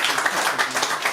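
A concert audience applauds with a dense, continuous wash of clapping, close and fairly loud, lasting about a second.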